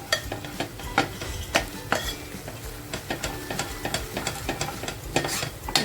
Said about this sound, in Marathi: मसाला पण छान तेलामध्ये फ्राय झालेला आहे